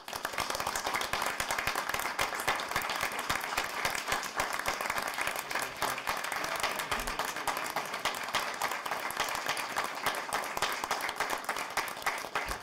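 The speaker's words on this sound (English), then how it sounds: "I do thank everybody for getting up and clapping" A town council meeting audience stands and claps, giving a sustained round of applause with many distinct hand claps at an even, moderate level and no talking over it.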